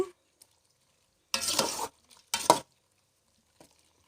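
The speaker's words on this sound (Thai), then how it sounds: "คนนิดนึง" Two short bursts of scraping and sizzling as a mushroom curry is stirred in a hot pot, close by, with quiet gaps around them.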